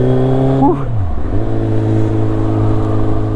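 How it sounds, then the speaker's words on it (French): A Kawasaki Z1000 motorcycle engine runs on choke with a loud, close, steady droning hum. Its pitch dips briefly, then settles back into an even, slightly raised idle. "Avec une moto qui tourne un petit peu plus haut, elle est sous starter"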